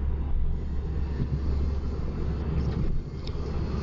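A 2012 JCW MINI Coupe cruises along with a low, steady road rumble and engine drone heard from inside the cabin, with no talking.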